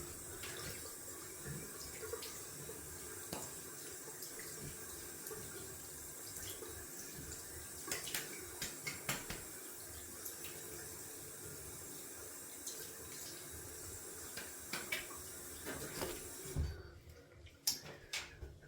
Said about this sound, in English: we're gonna rinse off with cold water, get that alum off the skin